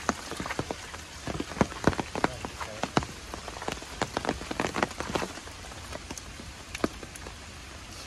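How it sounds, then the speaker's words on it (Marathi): Rain falling outdoors in South Goa, with steady patter on surfaces and frequent sharp drops landing close by, continuous throughout with a faint voice in the background. "पाऊस आल्यामुळे शूट थांबलाय."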